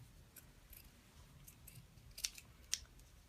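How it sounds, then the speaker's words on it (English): Quiet snips of scissors cutting out a leaf for faux succulents, a handful of light clicks spaced irregularly with two sharper cuts near the end, faint and close against a soft background hush. "So this is the last medium one I'm going to cut out."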